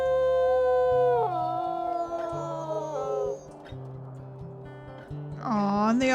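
Several wolves in a wolf video game howl together in long, overlapping, rising and falling wails over a low steady drone, with a final howl swelling loudly at the end.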